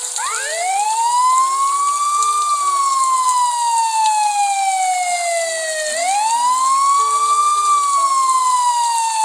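Ambulance siren in the Sakura School Simulator game, a loud, close wail sweeping slowly up and down in long cycles, with faint game sounds and beeps underneath.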